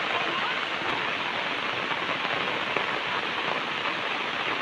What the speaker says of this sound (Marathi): पाऊस बघा किती जोरदार.